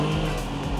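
Spinning car wheels skidding on a track, a short steady screech over a constant engine drone, loud and close.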